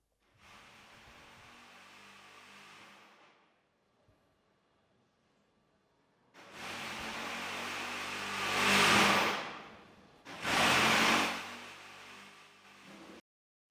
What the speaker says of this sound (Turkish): Ferrari'nin 2026 motoru sonunda çalıştı. Gelin hep beraber önce motoru bir dinleyelim.